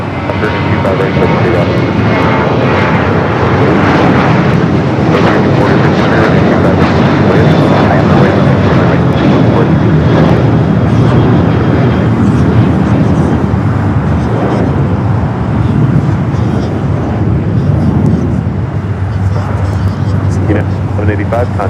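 A jet airliner takes off from Los Angeles airport, a loud continuous engine roar filling the scene, with radio chatter running underneath.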